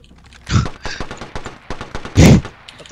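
Alternator SMG gunfire in a video game: two loud, close bursts of rapid automatic shots separated by a stretch of lighter, evenly spaced rounds, forming a steady rattling rhythm.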